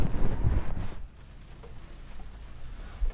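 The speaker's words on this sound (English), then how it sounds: "It's, the wind's gusting now, 40 to 50 mile an hour as predicted" Wind gusting at 40 to 50 miles an hour near Lulworth Cove hits the microphone in a loud buffeting rush for about a second, then falls to a faint low rustle, with a short thump near the end.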